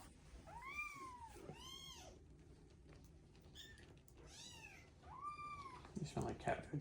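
A kitten meows several times in rising and falling cries, close to the microphone and fairly soft, with a person talking quietly in between and some light rustling near the end.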